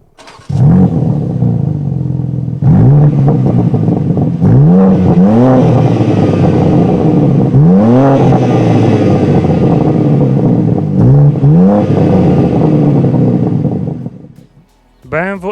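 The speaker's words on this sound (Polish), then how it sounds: "coś, co musi się pojawić w odcinku o samochodzie BMW M, czyli dźwięk wydechu" 2024 BMW M3 Touring exhaust, a loud close engine blipped repeatedly in sharp rising revs separated by rumbling idle, ending abruptly with a brief gap.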